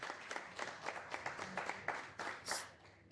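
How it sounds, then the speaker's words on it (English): A small, quiet audience at an evening art and activism gathering claps for two musicians after a set of Scottish traditional music. The clapping is faint and fairly sparse, and a murmur of voices sits underneath it. "Big round of applause."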